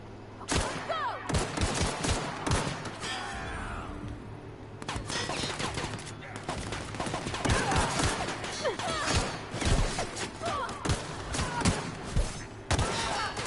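Pistol fire in The Outer Worlds comes as loud, close shots, many in quick irregular bursts with brief pauses, mixed with thuds and impact crashes over about thirteen seconds.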